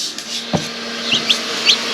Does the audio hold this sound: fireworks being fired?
no